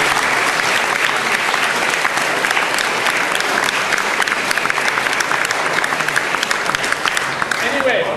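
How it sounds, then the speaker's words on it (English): Brief but steady round of applause from an audience at a comedy night at a student union, honouring newly named committee appointees, with dense even clapping throughout and no talk over it. "We could just give them a brief round of applause."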